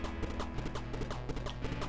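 Horse hooves clip-clopping in the video game Gunsmoke, a quick steady run of light hoofbeats over a constant electronic background, brief and moderately quiet.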